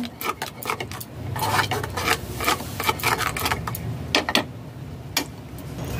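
A spoon stirring a spice paste with water in a bowl while preparing steamed pumpkin, giving repeated scraping and clicking strokes in an uneven, busy rhythm, close and fairly loud.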